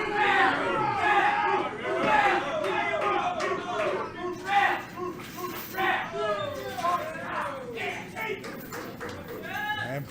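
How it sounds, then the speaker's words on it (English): A crowd at a live wrestling show cheers and shouts for Pork Chop Johnson, with loud, rolling chatter, yells and whistles filling the arena, as well as a few thuds from the ring, under a commentator's voice. "And Pork Chop Johnson has got this crowd going."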